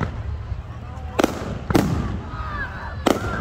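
New Year fireworks over Loch Sport burst in three sharp, loud bangs spaced about a second apart, with whistling and crackle between them and people talking and cheering nearby.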